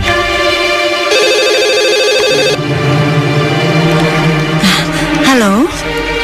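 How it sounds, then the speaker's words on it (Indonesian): A telephone rings loudly with a repeating electronic ringtone in shifting melodic patterns, followed by a warbling tone near the end. "Itu pasti ayah kamu yang telepon."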